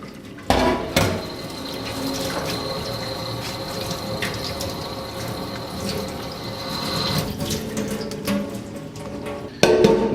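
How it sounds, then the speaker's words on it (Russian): Cooked rice is drained and rinsed under running water in a kitchen sink, a steady close stream of splashing and trickling framed by a clunk of a pot at the start and another at the end, with no speech. "Пока мы готовили опару, рис у нас сварился. Сейчас нам надо его слить"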